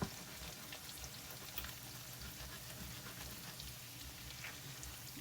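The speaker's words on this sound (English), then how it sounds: "Now I've got this on a high fire because you want it to cook as quickly as possible" An egg fries on a high fire, making a continuous soft sizzle with scattered tiny pops. The sound stays fairly faint and even, and no one speaks.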